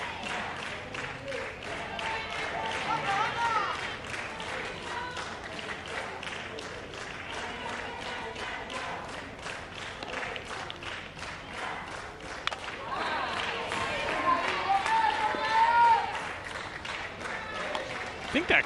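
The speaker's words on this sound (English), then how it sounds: "I think that clapping is Puerto Rico's dugout." Steady clapping from Puerto Rico's dugout at a women's baseball game between Cuba and Puerto Rico, heard as a continuous crowd-like patter that swells toward the end, with talk running over it.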